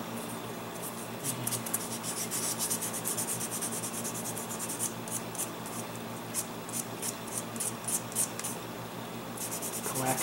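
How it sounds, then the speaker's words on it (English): A sanding sponge rubs steadily against the seam of a plastic King Ghidorah hotel model kit, producing soft, close, repeated scratchy strokes with short pauses and no talk. "Take the sanding sponge."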